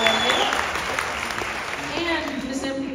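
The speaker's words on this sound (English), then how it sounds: "And round of applause," An audience at an elementary choir festival applauds the djembe player in a steady wash of clapping that runs for the whole stretch, with some voices and tonal sounds mixed into it.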